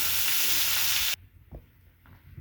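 Bitter gourd and potato bhaji sizzles in a pan over medium heat, a loud steady hiss that cuts off abruptly, followed by a few faint clinks and stirring sounds.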